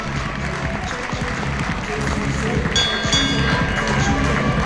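Spectators at a race finish applaud the soon-to-be winner, a steady mass of clapping and crowd noise with a bell ringing partway through, while a commentator talks over it.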